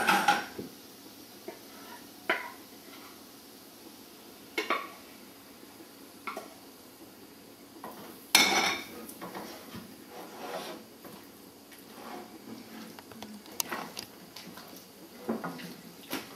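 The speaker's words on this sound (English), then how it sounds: "Stir that in, and now we can add in the white sauce." A spoon stirs vegan white sauce seasoned with salt and pepper in a pot, giving quiet scraping and occasional clinks against the pot, with a sharper knock midway.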